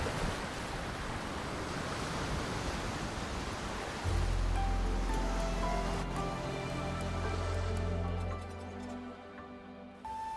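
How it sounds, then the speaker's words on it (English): Steady rain hiss in the video game Wuthering Waves, a broad wash of falling drops that thins and fades toward the end, with low tones and soft chiming music entering midway. "The rain is subsiding, and the sky will soon clear."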